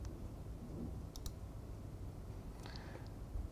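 A computer mouse gives a few soft, close clicks, two of them quickly in succession, over a quiet room hum with no talking.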